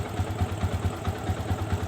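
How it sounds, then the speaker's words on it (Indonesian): A fuel-injected Yamaha Vixion motorcycle with a faulty charging system that keeps draining the battery runs up close, its engine throbbing in a rapid, steady pulse with mechanical clatter. "Saya coba geber gasnya."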